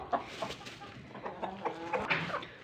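Chickens cluck repeatedly at close range in a garden coop shared with a lop rabbit, short choppy calls scattered throughout with faint background movement.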